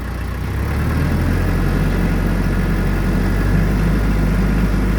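The diesel engine of a TYM T474 tractor rises from idle to a steady rev around 1,500 RPM, a loud, close, even drone with deep rumbling and no talking.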